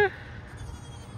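A nearby goat gives short bleats at the start and end of a brief moment at a petting session, with voices around.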